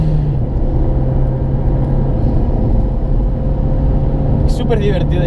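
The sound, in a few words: Renault Megane R26 F1 Team engine at full throttle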